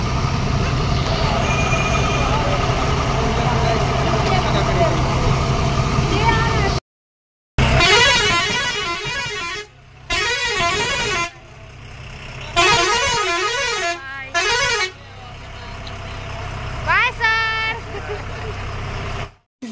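Loud, repeated horn blasts from buses at a crowded Indian bus stand, long honks and wavering musical horn patterns over a steady engine rumble, with voices in between.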